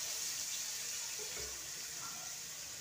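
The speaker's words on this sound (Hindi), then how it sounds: "थोड़ा सा पानी डालेंगे इसमें।" Water is poured into soya chunks frying in a pan for curry, a steady hissing, sizzling wash of sound that stays even throughout, close and moderately quiet.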